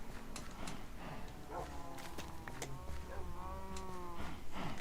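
Several drawn-out cow moos from the Minecraft video game overlap across the stretch, layered over a busy bed of in-game ambience and clicks, steady and fairly loud.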